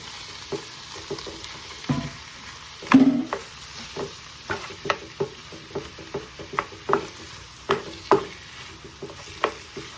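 Ground meat frying in a pan with sautéed onions for ragù Bolognese, a steady sizzle broken by a run of sharp spatula scrapes and taps at irregular intervals, close and fairly quiet.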